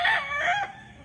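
A rooster on a gamefowl farm lets out a single close, loud crow that fades off within about a second, with no voices.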